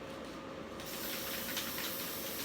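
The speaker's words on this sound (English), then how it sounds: "I'm going to get a nice good spray on there" A continuous aerosol spray hisses loudly and steadily for a couple of seconds, close up, starting after a brief quieter moment, sprayed from about 12 inches away.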